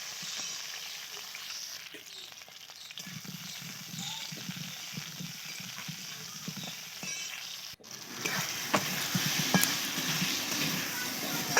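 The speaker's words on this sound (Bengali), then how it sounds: "আলুটা একটু ভাজা ভাজা হয়ে গিয়েছে" Potatoes fry in a pan at home, a steady, moderate sizzle with occasional stirring scrapes, growing a bit louder toward the end.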